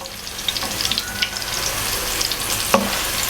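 Close, steady sizzling and crackling of garlic frying in hot ghee, with small pops and the occasional stir.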